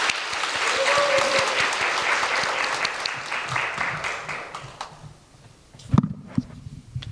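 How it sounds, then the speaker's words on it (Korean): Applause from a church gathering welcoming a teacher to speak: moderate, steady clapping for about four seconds that fades out, followed by a few scattered thumps and movement. "박수로 환영하겠습니다"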